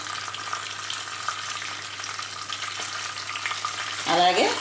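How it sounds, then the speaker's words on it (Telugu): Steady crackling sizzle of mustard seeds mixed with other tempering seeds in hot oil, continuous throughout, with a sharper burst of spattering near the end. "మీ దగ్గర కనుక ఆవాలు విడిగా ఉంటే కొత్త ఆవాలే పోపు పెట్టుకోండి"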